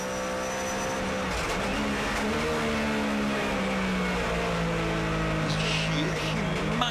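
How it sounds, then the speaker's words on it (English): Porsche GT3 Cup race cars downshift at Manfeild Raceway, the engines screaming and whining through the down changes. A continuous dense roar holds throughout with shifting pitch, moderately distant. "You can hear the cars screaming when they're going down."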